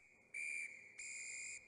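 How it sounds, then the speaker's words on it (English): A skating rink attendant's whistle sounding in shrill, steady tones: one blast, a brief dip, then a longer second blast, clear and close against a quiet background. "the man who ran the rink blew his whistle 3 times"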